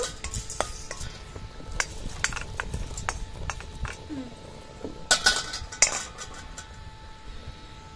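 Whole spices including cardamom and star anise dry roast in a pan while being stirred, giving scattered close metallic clinks and scrapes of a utensil against the pan over a low background, with a louder cluster of knocks midway.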